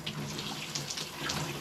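A shower running cold water, turned up harder, gives a steady hiss of spray that fills the moment, fairly quiet and continuous with no voices.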